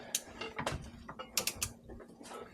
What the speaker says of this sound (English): we are going to be torquing down the CV axles, or the half shafts, to 45 inch-pounds.